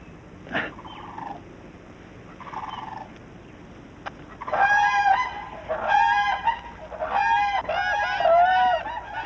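Whooping cranes call loudly in a series of bugling, trumpet-like bursts that come in rapid clusters after a few softer, honking notes at the start, close and clear outdoors.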